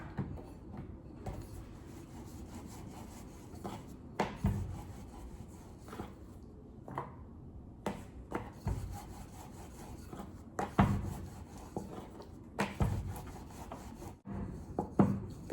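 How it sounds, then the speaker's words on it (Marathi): A wooden rolling pin flattening dough for ghujiya: soft, repeated rubbing and rolling strokes with light knocks of the pin on the board, quiet and close. "आपण आता लाटून घेऊया."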